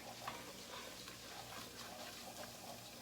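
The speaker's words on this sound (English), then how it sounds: "we're just gonna get this stirred together" Flour is stirred into melted butter in a pot for a roux, a quiet soft sizzle with gentle scraping strokes repeating steadily, faint and with no voices.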